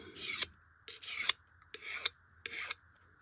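A file rasps burrs off a Lee 452-300RF part in four distinct strokes, each about half a second long with short pauses between them, close and clear with no voices.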